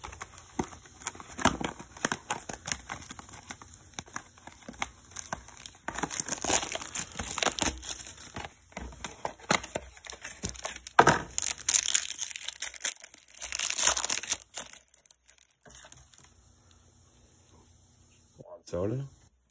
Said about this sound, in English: Today we're ripping a 2022 Mosaic Choice Box.